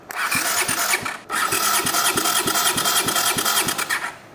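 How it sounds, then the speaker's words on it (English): An auction-bought Honda motorcycle engine cranks over steadily on the starter, with a rapid, even chugging pulse under loud broadband whirring that briefly drops out and then resumes. "now we're gonna spin that motor over until that stops"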